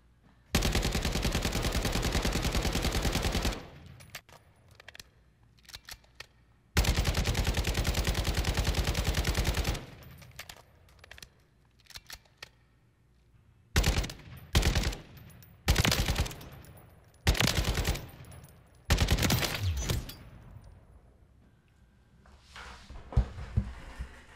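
Kastov 762 rifle fire on a video game firing range: two long sustained bursts of loud automatic fire, then several shorter rapid bursts separated by quiet gaps, with faint mechanical clicks between them.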